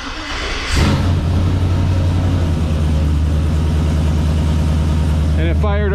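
A show truck engine cranks briefly, then catches with a loud burst and settles into a steady, close, rumbling idle, with a voice briefly heard near the end.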